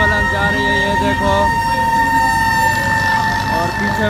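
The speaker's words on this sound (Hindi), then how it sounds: "एम्बुलेंस जा रही है" An ambulance siren wails steadily and loudly near a convoy during the Arbaeen walk procession in Hyderabad, a sustained tone holding over crowd and traffic noise.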